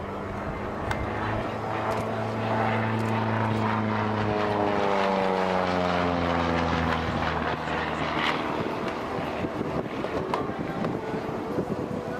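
Propeller aircraft flying an airshow display, likely the Aces High DC-3, pulling up with a loud, steady engine drone whose pitch slides and shifts throughout, with wind buffeting the microphone.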